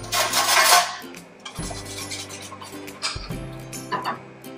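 Beaten egg mixture for a prawn omelette pours into a hot pan on low heat, giving a soft broadband sizzle and rasp that swells at first, then settles into a steady crackle with light pan and utensil knocks.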